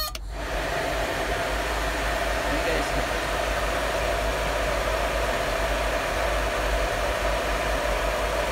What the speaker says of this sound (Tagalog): tapos on natin ang blower